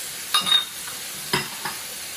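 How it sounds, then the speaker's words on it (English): Garlic, ginger and onions with fried rice being stirred in a pan, giving a few scraping strokes and short sizzling bursts over a quiet background. "Keep stirring it round."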